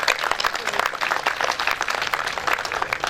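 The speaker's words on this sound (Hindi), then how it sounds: "तो इनके लिए हमारे पूरे वेलेंशिया की तरफ से एक दफ़ा फिर तालियां और शुक्र।" Clapping from the audience at a mushaira, an Urdu poetry gathering held by a literary club: dense, continuous applause from many hands, fairly loud and close, with a busy, crackling texture throughout.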